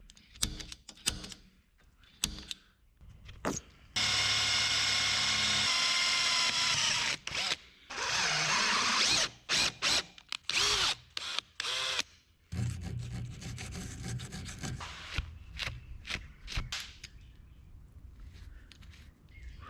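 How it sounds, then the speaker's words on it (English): A power drill bores holes for tapping grease fittings on a 1984 Toyota dually dump bed conversion, running in loud sustained whines broken by stops, restarts and short bursts, amid clanks of shop handling. "We gotta drill and tap those suckers and put a grease zerd in there"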